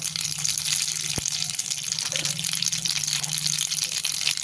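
Mustard seeds sizzle in hot oil for a fried chilli and curry-leaf chutney, a steady bright crackling hiss running throughout with one sharp pop near the start, no voices.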